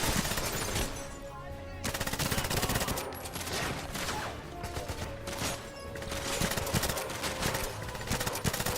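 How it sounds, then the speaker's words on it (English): Gunfire aimed at the player in a video game, loud rapid bursts of automatic shots rattling almost continuously with brief lulls, close and dense, no talking. "Who's shooting at me?"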